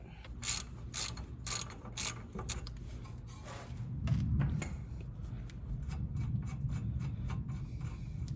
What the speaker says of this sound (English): I'm gonna take the upper control arm, or the upper ball joint nut off.